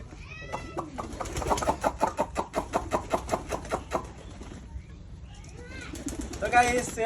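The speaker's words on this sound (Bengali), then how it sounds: "আমার খামারের কিছু কবুতর আমি দেখাবো আপনার করে" Pigeons at a small backyard pigeon farm give a rapid run of rhythmic coos and calls, with fainter bird chatter before and a burst of mixed calls near the end.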